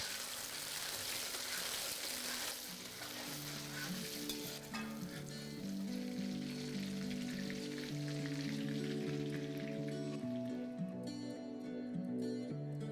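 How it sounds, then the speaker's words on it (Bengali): Pointed gourd (potol) pieces fry in hot oil with a steady, dense sizzle and crackle that runs unbroken throughout, with a tonal music bed underneath. "এবার এই একইভাবে আমি বাকি পটলগুলোকেও ভেজে নিচ্ছি।"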